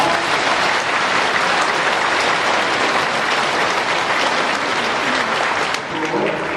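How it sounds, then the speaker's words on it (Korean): Congregation at a Catholic priest and deacon ordination ceremony gives thick, sustained applause, loud and continuous, dipping only briefly near the end. "큰 박수와 격려 부탁드립니다"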